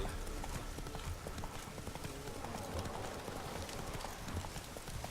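Horse hooves clip-clop in The Witcher 3 video game, a steady rapid rhythm of hoofbeats as the horse moves along, loud and continuous over game ambience.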